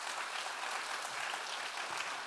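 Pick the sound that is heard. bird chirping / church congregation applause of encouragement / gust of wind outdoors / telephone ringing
church congregation applause of encouragement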